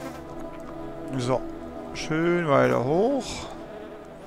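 Insect buzzing from a fly in The Plan video game, a thin droning hum that rises and swells in pitch, mixed under spoken commentary.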